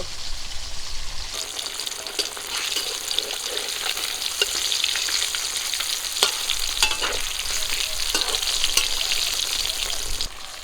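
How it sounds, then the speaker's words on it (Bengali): Pieces of big grass carp fry in hot oil in a village kitchen, a dense crackling sizzle running throughout with scattered spatters and clinks of a utensil, no voices. "মাছগুলো ভাজা হয়ে গেছে তুলে নিচ্ছি"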